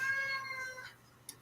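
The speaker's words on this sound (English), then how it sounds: "my son's cat is always so loud in the mornings" A domestic cat lets out a single loud, drawn-out meow that fades away, followed by a few faint clicks in a quiet indoor room.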